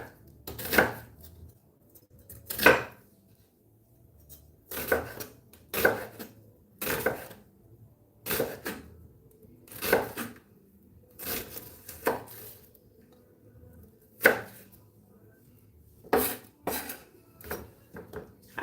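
A knife chops an onion on a board in slow, irregular strokes, each a crisp thunk separated by quiet pauses, close and alone with no talking.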